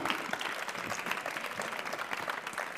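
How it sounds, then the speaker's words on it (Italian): Audience applause for the winners at the Premio Ausonia award ceremony, a steady, moderately distant clapping from a crowd with no voices over it. "E facciamo un altro applauso"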